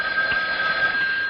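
A telephone rings in one continuous, steady electronic tone, fairly loud and alone, with no voices over it.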